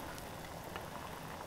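Cowboy coffee boils in a pot, a soft steady bubbling hiss with faint pops, quiet and continuous with no talk.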